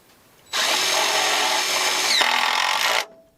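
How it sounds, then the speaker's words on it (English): A power drill whines steadily as it drives a screw into a wooden hurricane tie during off-grid floor framing, one loud continuous run of about two and a half seconds that stops abruptly, with no talking. "So I'm putting 3 screws here into the hurricane tie."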